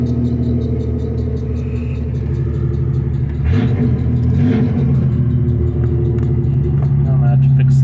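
A 1993 Chevy S10 Tahoe with a 2.8 TBI engine and five-speed idles on a cold first start, a steady low rumble with a brief swell midway, while a person talks over it.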